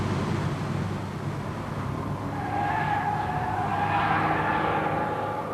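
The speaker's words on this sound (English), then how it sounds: "you leap into action in a fairly hot saloon car, the Ford XR3i" A Ford XR3i saloon car driven on the Brands Hatch racing circuit, its engine droning and tires hissing steadily, with a rising whine building midway as the car passes at a distance.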